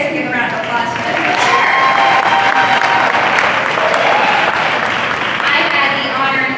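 Crowd at a girls varsity basketball senior night applauding the senior players, loud sustained clapping filling the gym with some cheering, while a voice talks over it.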